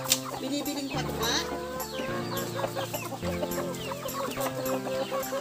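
Flock of chickens clucking excitedly in a commotion while feeding on ripe banana, dense overlapping clucks and calls continuing throughout, fairly close.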